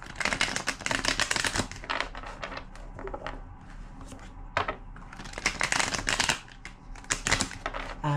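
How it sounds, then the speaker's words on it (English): A deck of cards is shuffled by hand during a tarot-style reading, giving bursts of crisp riffling and flapping close by, in several rapid rounds with short pauses and no speech. "Two more shuffles."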